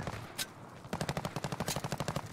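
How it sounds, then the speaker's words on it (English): Rapid automatic gunfire from Call of Duty, the video game, rattles in a steady burst of close, evenly spaced shots after a single sharp report. "They're shooting at me."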